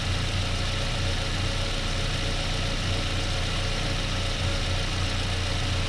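A newly installed Chinese engine in a Chevrolet Beat/Spark idles with a steady, even, close rumble that runs on its own without pause.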